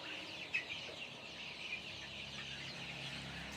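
Desi chickens, including about 25-day-old young birds, cluck softly in a flock on a house rooftop farm; faint, scattered calls sit over a low, steady background.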